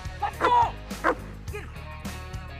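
A military working dog barks and yips at a decoy playing a threat during a security forces training lane, several sharp, close barks in quick bursts with a faint low hum underneath.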